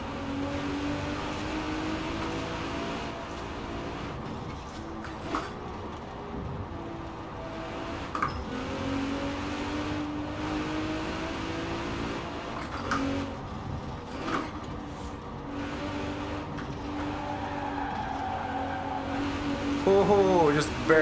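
Nissan Skyline in Forza Horizon 4, its engine droning and shifting pitch steadily as the car is thrown around, with faint tire noise, under continuous talk.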